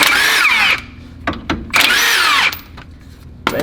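A power tool, likely an impact gun, runs in two loud whirring bursts while removing two nuts from a car suspension during a coilover install on an Impala, with short clanks between bursts.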